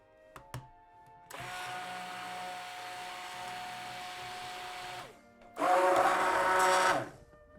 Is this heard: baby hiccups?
no